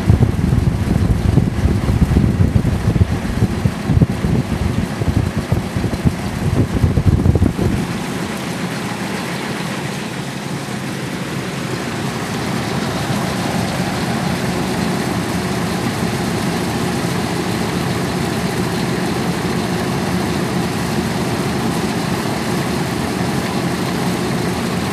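A huge DeBothezat industrial fan running, a loud whooshing rumble that drops to a quieter, even hum partway through and then holds steady, close by, with no talk.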